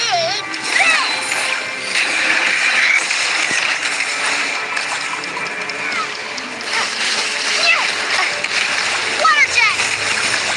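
A water jet splash attack in Genshin Impact gushes in a loud, continuous spray of splashing and sloshing, with character voice lines and short effect chirps over it.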